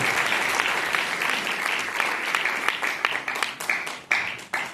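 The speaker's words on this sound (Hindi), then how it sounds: "उनके लिए जोरदार ताली, जोरदार ताली" Loud applause from an audience at a DXN camp in Amritsar, dense sustained clapping with sharper individual claps standing out near the end as it begins to taper.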